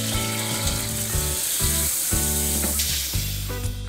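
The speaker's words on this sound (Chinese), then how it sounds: "加入鸡肉，这里要多翻炒一会儿" Chicken stir-fries in a pan for a Chinese ground-pot chicken dish, a steady bright sizzle and hiss running under loud, continuous background music.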